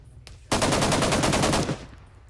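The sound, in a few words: gunfire from the video game ArmA 3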